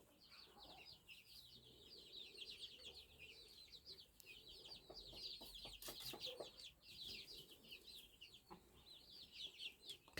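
A hen and a small rooster cluck softly and continuously at close range in a quiet farmyard, with a few brief sharper calls.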